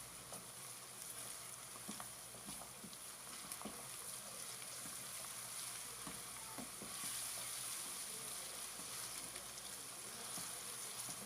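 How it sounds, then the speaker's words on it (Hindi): Onions and ginger-garlic paste sizzle and fry in oil for mutton karahi, a steady, close crackling hiss with small pops and occasional stirring, continuing without talk. "अच्छी तरह से अदरक और लहसुन के पेस्ट को भी हम प्याज के साथ फ्राई कर लेंगे।"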